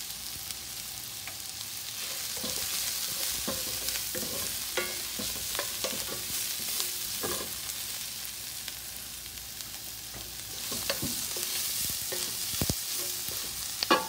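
Mushrooms stir-fry in a pot for a one-pot meal. A continuous soft sizzle runs under frequent scraping and clacking taps of a utensil against the pot. No voices.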